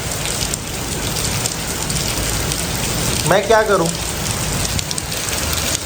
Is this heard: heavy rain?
yes